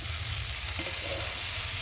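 Cauliflower frying with spices in a pan, a continuous close sizzle with one brief utensil scrape, no one speaking.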